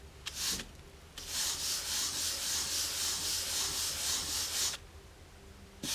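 A damp cloth wipes chalk marker marks off a surface in a steady, close rubbing stroke that lasts several seconds, with a few short scrubs just before.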